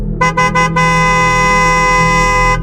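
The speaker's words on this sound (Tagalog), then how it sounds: "Isang mahaba at malakas na busina ang umalingaw-ngaw sa madilim na kalsada." A loud vehicle horn blares close by, starting with three quick toots and then holding one long sustained blast.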